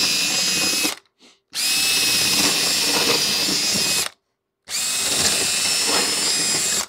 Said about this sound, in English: it is a little unnerving to start drilling the holes through the top of the wing core